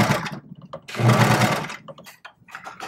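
A serger with its cutter running trims fabric while sewing baby leggings. The motor whirs loud and close in short bursts, with a long steady run in the middle and no talk.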